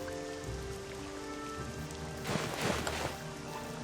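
Steady rain falls in the game Morrowind, a continuous hiss of drops on surfaces with a swelling, heavier patter partway through, without any voices.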